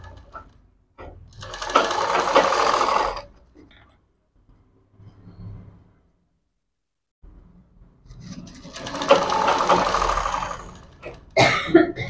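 A sewing machine stitches a hand design with net and border in two loud, rapid runs of about two and three seconds, separated by quiet handling sounds and a brief cough.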